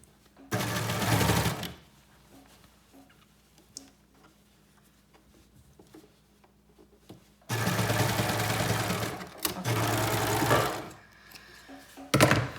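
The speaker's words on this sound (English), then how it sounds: "It's very easy to get gaping or kind of areas that you miss when sewing something like this." A sewing machine stitches sleeveless arm bands for a Blake Bomber jacket in several loud, close bursts of rapid whirring, about a second or two each, separated by quiet pauses with faint handling clicks.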